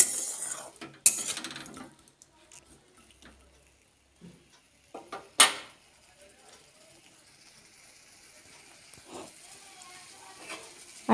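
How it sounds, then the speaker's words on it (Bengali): Tomatoes are stirred in a pan for tomato chutney, with sporadic scraping and clinking of a utensil against the pan and a faint low sizzle between louder knocks, fairly quiet overall. "তো তারপর আমি আবার ভালোভাবে নাড়াচাড়া করে নিচ্ছি।"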